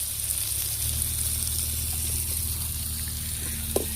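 Ginger garlic paste sautéing with onions and tomato paste in a pan for a quail curry gravy gives a steady, close sizzle throughout, with a faint clink near the end and no talking.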